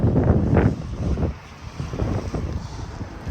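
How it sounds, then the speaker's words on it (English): Gusty wind on a freezing day buffets the microphone in low rumbling bursts at a waterfront shopping center, rising and easing unevenly over a few seconds with no voices. "it is absolutely freezing today. It's like 20 something and it's windy."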